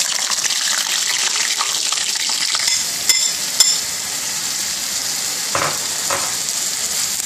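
Green chillies and cumin seeds frying in hot oil give a loud, steady sizzle throughout, with a few brief metallic clinks and stirring scrapes over the top and no voices.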